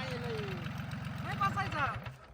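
A tractor engine runs while the tractor is stuck in mud on a muddy shortcut, a steady low throbbing idle, with voices calling out loudly over it.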